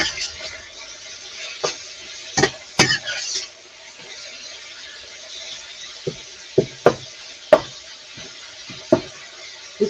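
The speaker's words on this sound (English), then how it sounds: "This is the only time I don't have an issue with metal on metal is when you're doing your wok" A metal utensil scrapes and clanks against a wok while Korean-style ginger beef is stirred, giving sharp, irregular metallic knocks over a faint sizzle, fairly close and loud.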